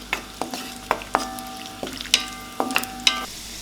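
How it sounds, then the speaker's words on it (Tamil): Cashews fry in hot ghee for a halwa, with a metal spoon clinking against the pan in an uneven rhythm of sharp, ringing taps over a soft, steady sizzle, close and clear with no talking. "இப்போ நெய் சூடானதும் ஒரு 10லேருந்து 15 போல் முந்திரியை நம்ம வறுத்தெடுத்து வெளியே வச்சுக்க போகிறோம்."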